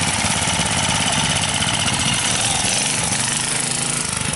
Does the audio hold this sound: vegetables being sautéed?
no